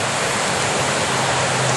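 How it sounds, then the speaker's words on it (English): A babbling brook beside a hiking trail sends up a steady, loud, close rush of flowing water with no break. "There's a babbling brook."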